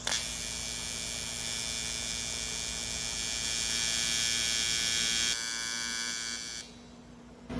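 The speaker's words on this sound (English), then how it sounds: "Let's get to welding." An aluminum pontoon boat ladder being TIG welded, a steady electric buzz with a faint hum running continuously at close range, stepping slightly in level before cutting off near the end.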